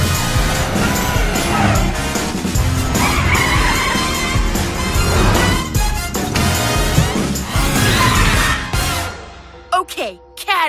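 A cartoon superhero cat car races and skids through a dense, loud soundtrack of music and effects, with characters talking over it and a few sharp sweeping tones near the end.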